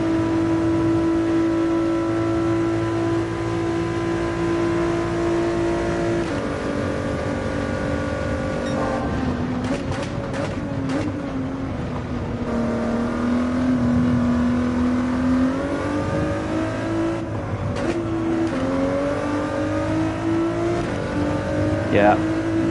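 Race car engine in a video game straining through the Eau Rouge corner at Spa, a steady loud drone that rises and dips in pitch with gear changes and throttle shifts, with talk over it throughout.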